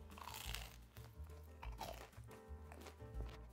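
Crispy fried dough bites made from leftover pizza dough with garlic and olive oil are bitten and chewed up close, giving a series of sharp, loud crunches in an irregular rhythm, with no talking.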